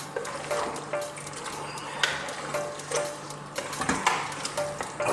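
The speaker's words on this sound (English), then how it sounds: "Then our tomato paste. Let's give this a little mix up." Tomato paste is stirred into a pot of lamb and chickpea stew, soft wet scraping and gentle sizzling with irregular clicks of a utensil against the pot, close and moderately quiet with no talk.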